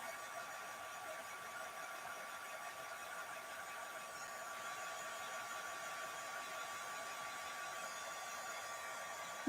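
A hair dryer blows steadily on a glossy and satin craft finish, a constant even whoosh at moderate level held for the whole stretch with no talk.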